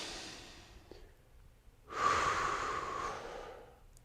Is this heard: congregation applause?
no